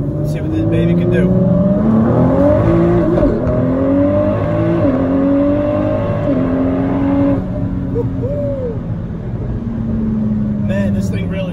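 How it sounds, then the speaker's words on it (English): The 647 hp twin-turbo engine of a new Ford GT supercar revs and accelerates hard, pitch climbing through gear shifts, loud and close, then easing off toward the end. "Brisk acceleration, and that engine"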